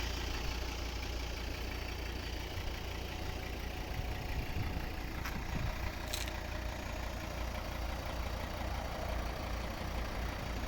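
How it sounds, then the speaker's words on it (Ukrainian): A 2011 Volvo V70 with the 2.0 D3 diesel and automatic gearbox idles steadily, a low even engine hum heard close and continuous with no revving, plus a couple of faint brief clicks partway through. "Автомобіль заведений, рівно тихо працює"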